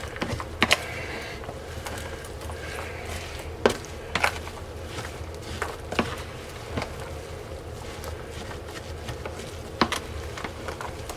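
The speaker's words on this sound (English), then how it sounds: "We're going to stir this in, mix it in really good." A spoon stirring sea salt into a bowl of chopped cucumbers for dill pickle relish: irregular scraping and sharp clicking strokes, close by and fairly quiet, with no talking.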